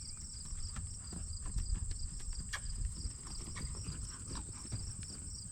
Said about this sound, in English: Let's see if we can get a more quiet and deliberate canter depart to the right.